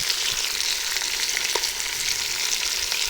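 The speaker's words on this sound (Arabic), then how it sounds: "كنقليه شويه بديك الزيته والجديده مع الملحه" Steady, loud sizzle of chicken pieces and onion frying in hot oil with salt, a continuous hiss with faint crackles and no talking.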